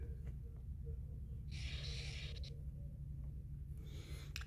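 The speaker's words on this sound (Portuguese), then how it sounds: "Agora, vamos construir esse gráfico aqui. Vou desenhar o gráfico." A pen or marker scratches on a surface as a graph is drawn by hand, with soft short strokes and a couple of brighter scraping bursts over a constant low hum, faint and close with no talk.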